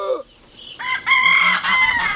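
Chickens from a small backyard flock kept in a front yard cluck and call close by in a few short, bright bursts with brief gaps between them.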